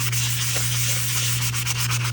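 Steady, close rubbing of sandpaper scuffing a resin coaster surface, a continuous gritty hiss with a low constant hum underneath, and no voices.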